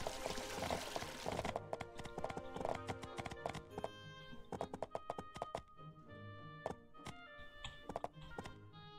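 Rhythmic horse hooves clip-clop in My Time at Portia, a steady run of hoofbeats after a brief burst of game noise, with no talk over them.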